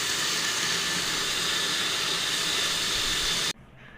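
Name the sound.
blender grinding onions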